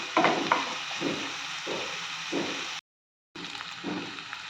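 Chopped onions and a split green chili sauté on low heat in a pan, giving a steady soft sizzle broken by repeated stirring scrapes, with a short gap of complete silence before the sizzling resumes.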